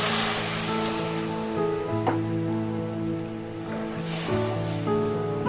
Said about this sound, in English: I'm gonna add half cup of water.